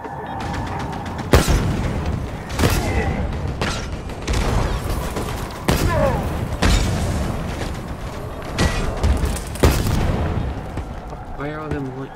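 Grenade blasts and gunfire burst repeatedly during a Halo co-op match: loud booms and sharp shots every second or so, with players talking over the action.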